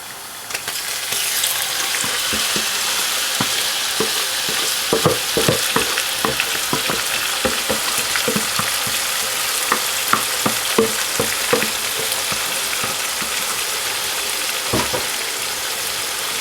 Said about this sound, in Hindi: इसे ऐड करने के बाद इससे थोड़ा सा आप सिर्फ फ्राई सा कर लें, बीच में इसको भून लें।